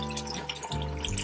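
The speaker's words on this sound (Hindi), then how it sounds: "थोड़ा सा पानी इसमें डालना, जिससे कि मसाला जले नहीं" Water poured into a hot pan of frying spices and tomato while making kadhi pakora, a steady running splash with a sizzle that shifts partway through, alone without talk.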